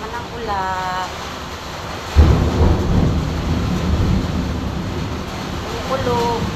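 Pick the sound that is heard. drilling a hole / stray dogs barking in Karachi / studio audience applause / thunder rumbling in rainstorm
thunder rumbling in rainstorm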